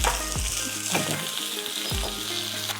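Ginger, curry leaves and green chillies fry in hot oil with a steady, close sizzle, while a spoon scrapes and stirs through the pan in a few distinct strokes; no one speaks.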